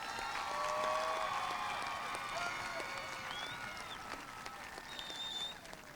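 Applause from a high school graduation crowd, steady clapping that is fairly loud at first and gradually thins toward the end, with a few faint whoops.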